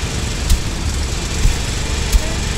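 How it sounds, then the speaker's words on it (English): A tractor engine drones steadily in the video game Death Tractor, a continuous low rumble with a few soft thumps rising out of it. "I don't like the sound of the tractor."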